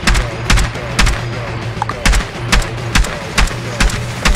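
Gunfire in Rainbow Six Siege, a series of sharp, evenly spaced shots cracking out about twice a second over a low background hum, with no one speaking.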